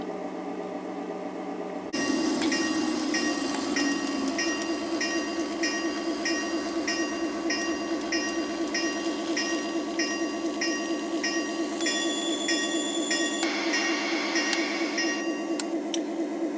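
A trolley train rumbles steadily along rails through wooded countryside, a constant mid-level rolling drone with rhythmic clicking and high metallic squeals layered on top, no voices.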